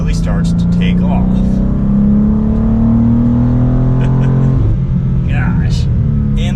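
A 2023 BMW M2 engine pulls hard under load, its drone climbing steadily in pitch as it accelerates above 4,000 rpm, then dips at a gear change and resumes.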